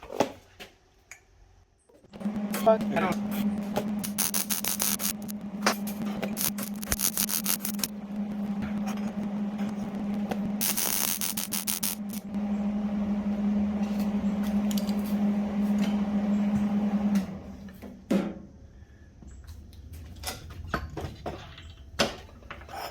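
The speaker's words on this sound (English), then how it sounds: "I've got it centered up as best I can, and I squeeze it into the vise just like this. And I weld it." A weld is laid on a Echo 590 chainsaw exhaust pipe clamped in a vise, with a steady electric buzz that holds for about fifteen seconds between quieter clicks and handling noises.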